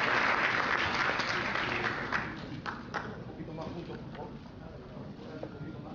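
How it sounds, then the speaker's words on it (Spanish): Audience applause for award winners at a university scientific merit ceremony, starting full and dense, then gradually thinning as the clapping tapers off, with faint background voices. "Un fuerte aplauso para los premiados."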